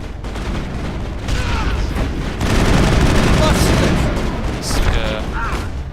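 In the video game Mass Effect, a grenade bursts and gunfire rattles in dense, loud bursts, with the roar swelling midway, while a voice talks over the combat.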